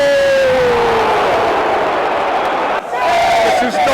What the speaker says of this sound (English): the cheering from the home supporters